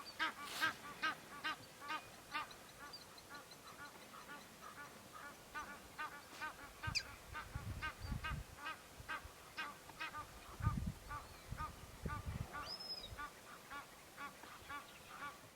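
Egyptian geese honk repeatedly in rhythmic bursts off to one side, with low rumbling bumps underneath and quiet surroundings, in the Manyeleti reserve.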